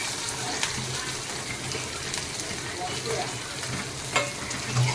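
Chopped onion with green chillies frying in a pan for Konkan-style fenugreek leaf bhaji gives a steady, close sizzle and crackle throughout, with a few faint clinks from stirring.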